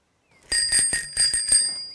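A bicycle bell rung repeatedly by a child during a preschool vehicles lesson: about six quick, loud, close metallic dings in a steady rhythm, each overlapping the ring of the last, with no voices.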